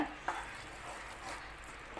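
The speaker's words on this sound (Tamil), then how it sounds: "இதையும் நல்லா கலந்து விட்டுட்டு ஒரு ரெண்டு நிமிஷம் கொதிக்கட்டுங்க" A sweet corn masala gravy being stirred in a pan, with soft scraping and a faint simmering sizzle running steadily throughout, one sharper clink near the start, no talking.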